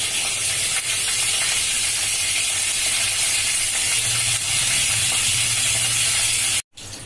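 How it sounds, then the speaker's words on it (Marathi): Mustard seeds, cumin, fenugreek seeds and curry leaves crackling in hot oil for tempering, a loud dense hiss and spatter held steadily close up, cut off by a brief silence near the end. "फोडणी चांगली तडतडली पाहिजे"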